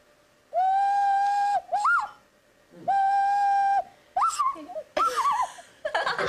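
A person whistles an imitation of the Japanese bush warbler (uguisu) call: two long steady held notes, each followed by a quick rising-falling flourish, then a few warbling trills, loud and close with no talking.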